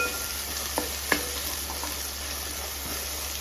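Egg biryani masala frying in a pan with a pinch of turmeric and half a spoon of chili powder after the eggs were fried, a faint steady sizzle with a couple of soft stirring clicks and no talk.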